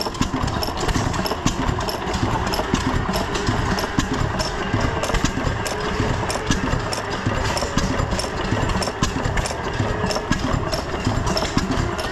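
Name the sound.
antique gas engines running at a county fair display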